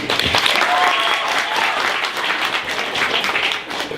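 Sustained audience applause at a live poetry event, dense and steady clapping from a crowd throughout, with a few faint voices mixed in.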